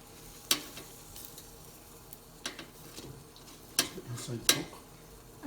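Faint sizzling of lumpia cooking in a Habor air fryer, with a few sharp clicks and knocks scattered across the clip, fairly quiet and close.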